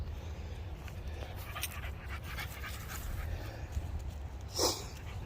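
A seven-month-old female dog pants in quick steady breaths during recall training outdoors, close and fairly soft under a low rumble of wind, with a brief sharper snort near the end.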